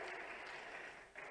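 A crowd at a state cleanliness award ceremony in Bhopal claps for the chief minister, a dense, steady wash of applause lasting briefly, easing slightly before a short final burst.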